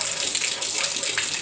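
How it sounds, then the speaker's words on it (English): Water from newly fitted wall-mounted bath taps pours steadily into the bath, making a loud, close, continuous hiss and splash. "run it again. Look at that. It's all going straight into the bath."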